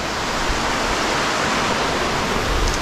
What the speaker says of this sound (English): Get all that water just flowing